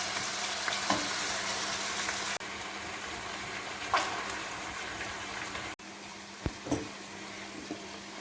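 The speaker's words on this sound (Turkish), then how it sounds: "ara ara karıştırarak 2-3 dakika boyunca tencerenin kapağı açık şekilde pişirmeye devam ediyorum" Steady sizzling of chicken drumsticks cooking in an open pot, with a few soft clinks and scrapes of stirring breaking through now and then.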